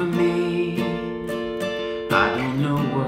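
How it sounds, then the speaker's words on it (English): Acoustic guitar strummed in a rhythmic down-and-up pattern, with several sharp strokes over ringing chords, close and clear with no talking. "So here's the strumming pattern."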